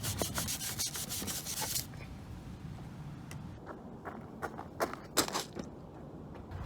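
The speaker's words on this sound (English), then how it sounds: "We're just gonna give it a good scrub down." Brisk scrubbing of a grill, rapid repeated rubbing strokes up close, a dense burst at first, then scattered sharper scrapes with pauses, no talking.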